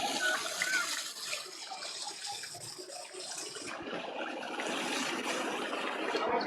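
Waterfalls rush in a broad, steady splash at a Florida attraction, a continuous wash of falling water that swells slightly toward the end, with no voices heard.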